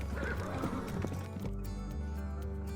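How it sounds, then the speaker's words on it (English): A horse whinnies loudly up close in a long, quavering neigh, followed by a few hoof clops on hard ground. "A messenger on a dusty horse skidded to a stop in the small town market."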